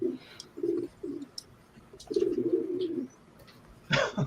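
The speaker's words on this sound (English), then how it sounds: "Pigeons are part of the ambiance of Drawn and Quartered." Pigeons coo softly in short repeated phrases somewhere in the background, with faint chirps and a brief flutter near the end. Nothing else is going on and no voices are heard.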